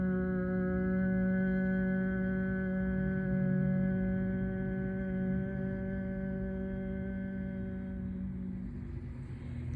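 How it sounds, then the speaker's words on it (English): A person hums steadily on a long exhale during pranayama breathing practice, one sustained, close, resonant tone that slowly fades toward the end, heard alone without speech. "On the exhale, we hum."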